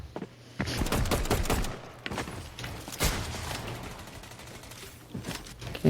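Rapid bursts of gunfire crackle in a Fortnite match, with clusters of sharp shots and brief pauses between volleys, some loud and close and others softer in the background.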